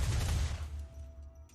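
Gunshots in the video game The Last of Us, a loud burst of fire at the start that quickly decays into a fading echo and near quiet.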